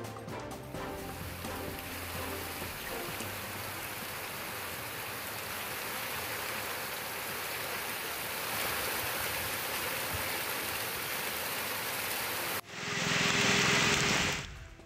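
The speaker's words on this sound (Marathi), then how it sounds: "साताऱ्यातील पाटण तालुक्यात वादळी वाऱ्याचा जोरदार पाऊस झाला।" Heavy rain pours down in stormy wind in Patan taluka, Satara, as a steady, loud broadband rush of water that swells slightly over time, with a brief cut and a louder burst near the end.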